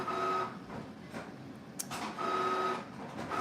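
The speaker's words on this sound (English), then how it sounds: "Somebody's about to print something, so it might get loud in here" An office printer runs in the room with a steady mechanical whir, rising in two louder passes with a faint tonal whine and a short click between, fairly close.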